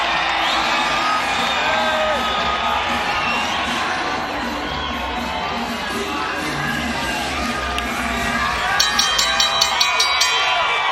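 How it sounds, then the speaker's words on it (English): A large boxing arena crowd at the Save Mart Center in Fresno, California roars and cheers continuously, a dense wall of shouting and whooping voices with some sharp clapping near the end. "Listen to this crowd."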